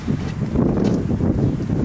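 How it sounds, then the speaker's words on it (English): Low, blustery rumble of wind buffeting a microphone, steady and close with no other clear sounds. "sorry about the wind"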